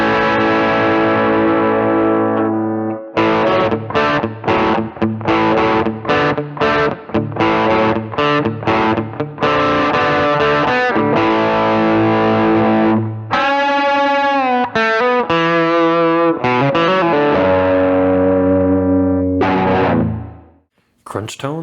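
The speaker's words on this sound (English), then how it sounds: "Crunch tones on bridge pickup" Electric guitar played with a crunchy overdriven tone on the bridge pickup of a modded beginner guitar: strummed chords and short choppy stabs, then sustained bends and a sliding lead phrase, loud and close, fading out at the end.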